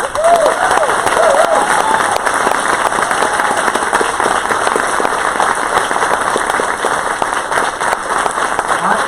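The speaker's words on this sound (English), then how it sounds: "let's give them a round of applause again" A large audience at a startup demo day applauds entrepreneurs with loud, dense, sustained clapping and some cheering. It forms a steady wash that holds for the full nine seconds, with a faint voice or whistle near the start.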